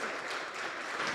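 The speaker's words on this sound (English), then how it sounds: "Let's welcome him with a round of applause." An audience claps to welcome a speaker at a youth weekend event in the Northern Cape, a dense, even wash of applause lasting about a second with no voices over it.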